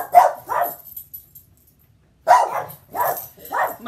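Pet dogs bark indoors, two quick barks, then a pause, then three more sharp barks close by.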